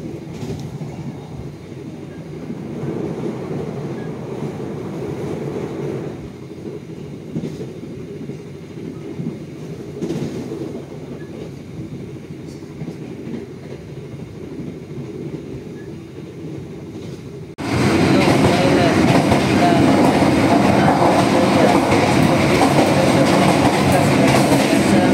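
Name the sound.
Madiun Jaya executive passenger train running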